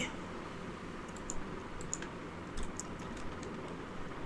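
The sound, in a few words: typing on a computer keyboard in Excel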